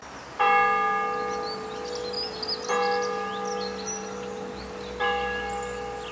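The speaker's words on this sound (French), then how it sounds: "Vous avez entendu les cloches sonner derrière moi?" Church bells ring out three times in slow succession, each strike resonant and lingering, moderately loud with birds chirping faintly in the background.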